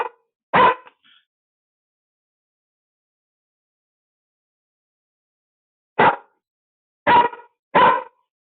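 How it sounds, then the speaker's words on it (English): A Labrador barks four times: a single sharp bark, then a long silence, then three loud, close barks in quick succession. "Stop barking now."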